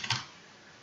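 A short burst of keyboard key clicks at the start, then quiet room tone; a couple of light taps close to the mic.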